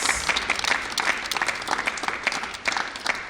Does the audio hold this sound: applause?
yes